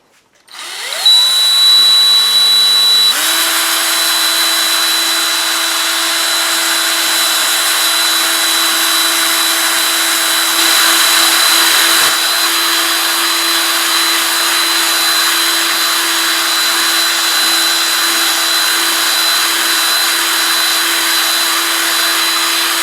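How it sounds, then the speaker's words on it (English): Steady, loud whine of a power sander working a modified rally gauge part from an 1987 Oldsmobile 442, starting up and running continuously with a constant motor tone and no talk. "just do some sanding"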